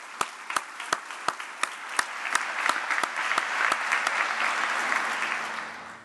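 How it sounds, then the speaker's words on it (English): A round of applause at a dean's welcoming begins with a few sharp, separate claps, then swells into full, even clapping from a crowd before trailing off. "Come on, a round of applause."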